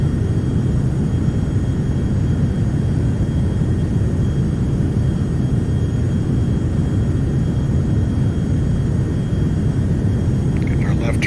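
A Beechcraft Premier 1A business jet departs in the X-Plane 11 flight simulator, its engines giving a steady, loud, dense rumble that holds constant throughout with no clear rise or fade.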